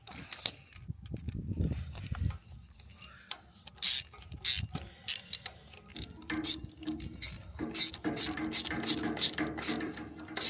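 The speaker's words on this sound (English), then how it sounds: "let's get it back on there and get it tightened up." A carburetor hose clamp is tightened with a screwdriver, giving quick clicking and scraping metal bursts in irregular clusters. Close and moderately loud, denser toward the end, with a brief rustle early on and no speech.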